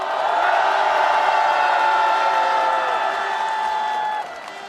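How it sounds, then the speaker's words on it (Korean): A loud, steady wash of crowd applause and noise at a Korean opposition-party street rally calling for a president's impeachment, holding throughout before dropping off sharply near the end. "뜨거운 격려의 박수 보내주시면 좋겠습니다"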